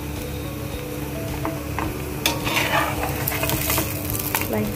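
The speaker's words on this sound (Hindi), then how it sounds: "इसको हम अच्छे से फ्राई कर लेंगे" Laccha paratha, a layered spiced wheat-flour flatbread, fries steadily in oil in a pan with a continuous close sizzle and crackle, plus a few brief scraping and spatula clicks partway through.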